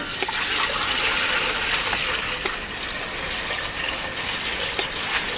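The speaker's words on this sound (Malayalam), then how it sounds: "ഇതിലേക്ക് കുറച്ച് വെള്ളം ഒഴിച്ചിട്ട്" Water pours steadily into a vessel up close, a continuous splashing trickle that keeps an even level throughout.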